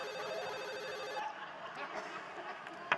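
A telephone rings with a fast electronic trill for about a second on a cooking show set, then stops, leaving quiet room noise and a sharp click.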